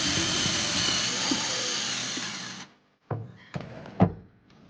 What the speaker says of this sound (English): I needed to drill some new holes for the hardware